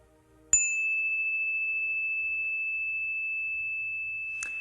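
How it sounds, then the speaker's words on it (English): A single meditation bell is struck once, ringing with a clear sustained tone that slowly fades in near silence, followed by a soft tap at the end. "As the sound of the bell fades into the distance"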